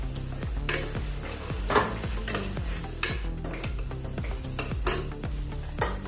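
A spoon stirs red chili powder and turmeric into frying masala for a soybean, potato and moong dal veg pulao, giving a steady sizzle broken by regular scraping and clinking strokes against the pan, close up and with no talking.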